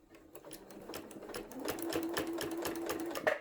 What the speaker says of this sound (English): I'm going to put them underneath my needle so that when my needle starts, it's going to be hitting on the fabric.